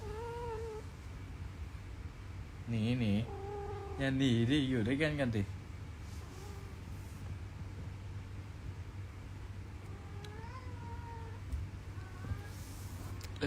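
Short meows and wavering cries sound in bursts over a constant low hum while people talk.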